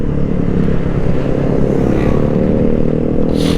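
A Honda Click 125 scooter is ridden, its engine droning loud and steady with a low hum and rushing wind noise, a brief hiss near the end.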